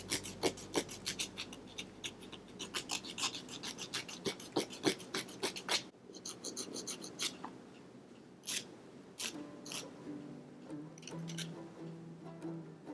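A nail file rasps across Ohora press-on gel nails in quick, close strokes, a rapid scratchy rhythm that slows to a few scattered strokes toward the end.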